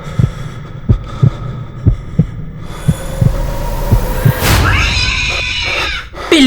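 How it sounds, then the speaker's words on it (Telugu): Loud heartbeat sound effect in a spooky audio story: heavy, regular double thumps pulse about once per second under a low hum, then a sudden sharp rising screech cuts across and fades. "తన గుండె చప్పుడు తనకే వినిపిస్తోంది, గట్టిగా, చాలా గట్టిగా."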